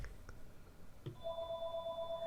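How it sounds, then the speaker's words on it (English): A telephone starts ringing indoors after a few soft knocks, its steady electronic tone sustained and moderately loud against a quiet room. "the phone's ringing again"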